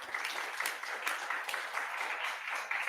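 Conference attendees applaud as a certificate is presented, producing a brisk, continuous burst of clapping from a roomful of people that stays steady for its whole length.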